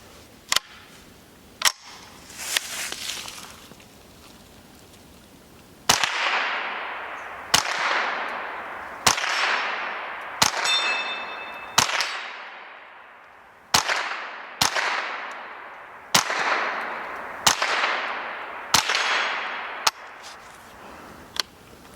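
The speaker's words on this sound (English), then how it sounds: "I'm gonna give her a whirl, shooting 10 rounds here." A Ruger 10/22 rifle fires about ten rounds in quick succession outdoors, each sharp crack followed by a short echoing tail, spaced roughly a second or two apart, with a couple of lighter pops at the start.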